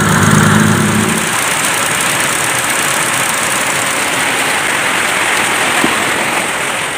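A Ford EcoSport engine idles steadily after a timing belt replacement at about 86,000 km. It gives a constant, fairly loud hum with broad hiss, and a low drone fades after the first second.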